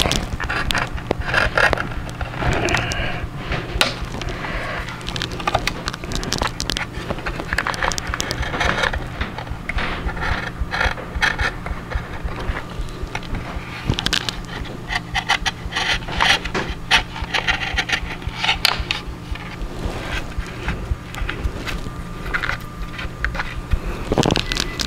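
Hand-trimming and rasping the wood veneer edge on a Les Paul Studio guitar body, a steady close rubbing, scraping rasp that continues alone for the whole stretch with small irregular strokes.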